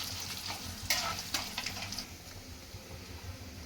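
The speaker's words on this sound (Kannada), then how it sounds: "2 ಸ್ಪೂನ್ನಷ್ಟು ಉದ್ದಿನಬೇಳೆ, ಇದನ್ನ ಸ್ವಲ್ಪ ಕೆಂಪಾಗೋವರೆಗೂ ಫ್ರೈ ಮಾಡ್ಕೊಳ್ಳೋಣ" Urad dal fries in oil in a pan, giving a continuous gentle sizzle with a few sharp scraping stirs near the start, close by and fairly quiet, with no one speaking.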